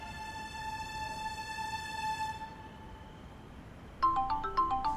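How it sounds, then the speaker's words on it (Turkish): A mobile phone ringtone plays alone as a steady, repeating melodic tone that fades out, then a brighter burst of ringing notes starts again near the end. "Ulan benim telefon çalıyor,"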